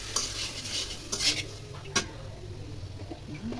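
Raw tomatoes being stirred in a cooking pan, with scraping utensil strokes and a light sizzle running underneath, a few sharper clinks standing out, close and moderately loud.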